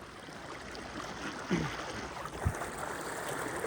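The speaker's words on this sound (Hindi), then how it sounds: "उधर भी सामने भी तेज आ रहा है पानी" Fast-flowing flood water from the Taunsa flood rushes in a steady, broad roar, heard from nearby with a couple of faint splashes and no clear speech.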